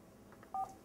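An IP phone gives a single short DTMF dialing tone, clean and steady, over a faint background hiss with no talking.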